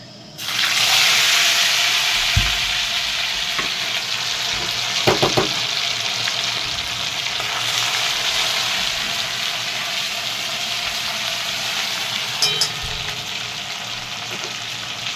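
Crab pieces frying in hot oil in a pan for a crab curry cooked outdoors, with a steady loud sizzle and hiss running throughout and a few clatters of stirring.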